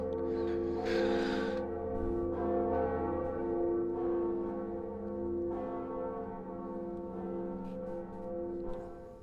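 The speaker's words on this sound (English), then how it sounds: "And the first bell of awakening has been rung." Bell of Awakening tolling in the Dark Souls video game, with ringing tones that sustain and slowly fade, and a fresh strike near the start, heard alone with no talk.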